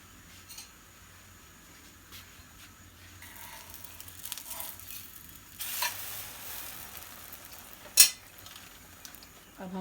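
A slice of pizza bread cooks in a pan with a soft, low sizzle, joined by a brief rush of hiss and a sharp utensil clink near the end.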